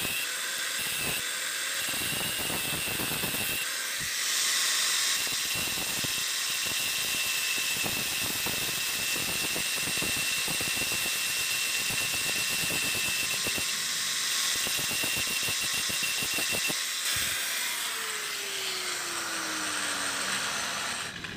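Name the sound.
grinder flattening protruding broken bolt stub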